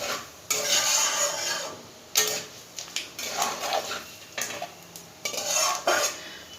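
Cumin, fennel and other whole spices dry-roasting in a pan for mung dal kachori, with bursts of rasping scraping as they are stirred between quieter sizzling pauses, close and fairly soft.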